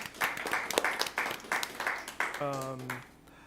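Attendees at a New Prague area school board meeting clap for staff in a brief burst of distinct claps that quickly thins out, with a held electronic tone at the end.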